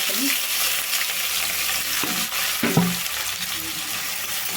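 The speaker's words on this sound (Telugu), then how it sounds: "తాలింపు అయితే బాగా వేగిందండి" Cumin seeds tempering in hot oil in a pan, a dense, close sizzle with crackles and a few clinks and scrapes of stirring.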